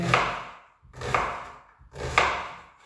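A kitchen knife chops vegetables such as potatoes, carrots and mushrooms on a board, three firm, evenly spaced strokes about a second apart, each a close thud with a short scraping tail.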